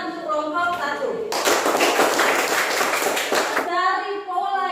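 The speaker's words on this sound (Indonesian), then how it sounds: "Ada tepuk tangan untuk kelompok 1." Students in a mathematics classroom burst into brisk, close applause for group 1. It lasts a couple of seconds, with voices talking before and after.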